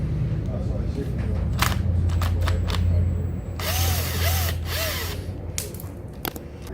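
A power tool or ratchet undoes the front fender bolts beneath the triple clamp of a Thumpstar TSK50 motorbike, in several short whirring bursts followed by one longer run, close and fairly loud over a steady background hum.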